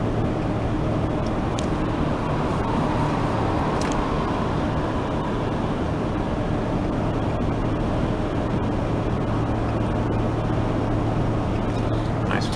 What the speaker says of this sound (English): All you got is the noise of the interstate. All the trucks going by